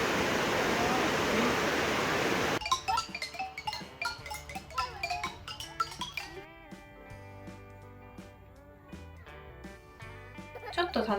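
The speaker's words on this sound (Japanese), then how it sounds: "近くにある白ひげの滝も。" Shirahige Falls in Biei, Hokkaido, roars as a steady broadband rush of water for the first couple of seconds. Then it cuts to a different scene of clinking, tinkling sounds over a faint background.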